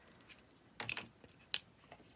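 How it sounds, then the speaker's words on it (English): Scissors slice through a clear plastic page protector during a stamping and paper-craft project, giving a few sharp, crisp snips spaced apart over a quiet background. "you just cut the page protector with your scissors"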